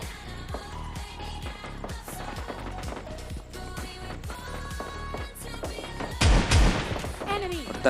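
Gunfire from the video game PUBG Lite comes in rapid repeated bursts of shots, loud and dense, with a voice talking over the game sounds.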